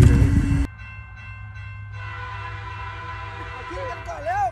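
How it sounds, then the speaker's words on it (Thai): A train rumbles past with a long, steady drone and a rising whine, after a short burst of loud noise at the start; a voice briefly speaks. "โอ้โหรถไฟพอดีเลย"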